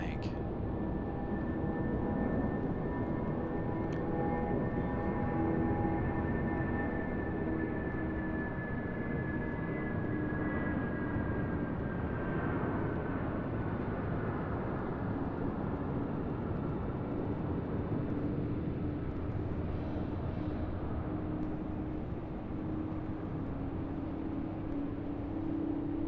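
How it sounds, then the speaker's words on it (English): Aircraft engines drone steadily at Raleigh-Durham International Airport, a continuous broadband rumble with a slowly falling whine as a plane passes, loud and unbroken for the whole stretch. "You guys enjoy the sounds of Air France and all other aircraft."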